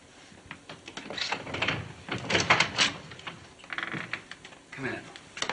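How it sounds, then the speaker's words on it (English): A door opens aboard a submarine in a 1960s sci-fi television drama, heard as a run of mechanical clanks, latch ratcheting and metallic clicks at moderate loudness, with no talking over it. "Open the door."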